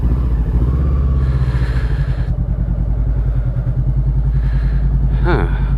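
Honda CBR500R motorcycle engine running steadily while being ridden, a loud continuous low drone with wind rush and slight throttle swells throughout.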